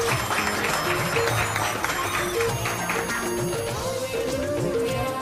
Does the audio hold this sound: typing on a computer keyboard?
no